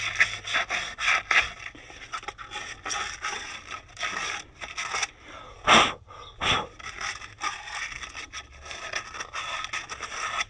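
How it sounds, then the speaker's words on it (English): Repeated close, rasping scrubbing strokes against surface rust on the rear wheel hub of a 2010 Cadillac CTS, coming in uneven bursts with a few sharper scrapes and no talking. "Just get rid of a little bit of that surface rust in there."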